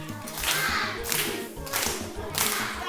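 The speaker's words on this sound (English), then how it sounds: "Can we clap?" A school class claps hands in three short bursts, each a quick flurry of many small hands, with brief pauses between.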